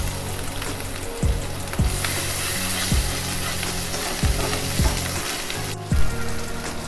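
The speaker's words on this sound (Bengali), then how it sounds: "লো টু মিডিয়ামে রেখে মশলাটা ভালো করে কষাতে থাকবেন" Masala sizzles steadily in hot oil for tel koi, a loud continuous fry with periodic scraping stir strokes roughly every half second to second, no talking.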